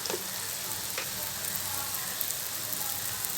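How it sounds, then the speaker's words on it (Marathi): Ginger and garlic frying with onion in a pan for a Malvani clam masala, a close, steady sizzle with faint crackles and occasional stirring scrapes. "आलं लसूण थोडं फ्राय करून घ्यायचं कांद्याबरोबर"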